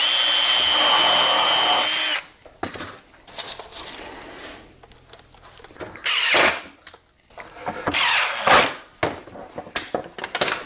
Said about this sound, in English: I'll add a couple of small screws to hold things in place